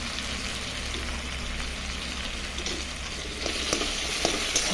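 Eggplant, tomato and onion frying together in a pan give a dense, steady hiss, with light stirring scrapes growing slightly louder near the end.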